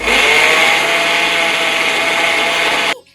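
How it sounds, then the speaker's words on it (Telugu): A mixer grinder grinds soaked, washed urad dal into a thick batter, a loud, steady whirring drone that runs without pause for about three seconds and then cuts off abruptly. "నానబెట్టుకున్న మినప్పప్పుని కడిగి మిక్సీ వేసుకొని"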